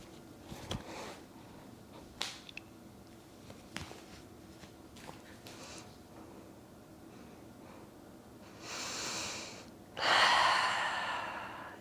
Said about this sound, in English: I want us to just take 10 breaths here together.